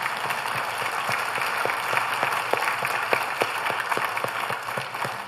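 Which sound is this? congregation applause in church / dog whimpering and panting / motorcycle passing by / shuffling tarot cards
congregation applause in church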